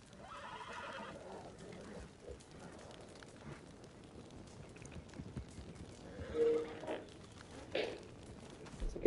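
Horse whinny in Red Dead Redemption 2, a clear neigh near the start, followed by quieter movement and scattered clattering sounds, with a few louder bursts toward the end.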